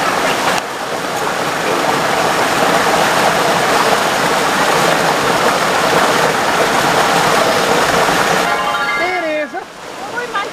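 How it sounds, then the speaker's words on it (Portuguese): Water rushes continuously and loudly along a stream in a close, broad roar, fading briefly near the end as a voice cuts in. "escutando a zoada da água"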